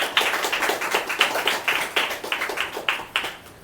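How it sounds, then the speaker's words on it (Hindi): A small audience at a business sharing meeting claps loudly in a steady run of sharp, close claps that lasts the whole stretch. "मैं सोचती हूँ एक बार जोरदार ताली हो जाए"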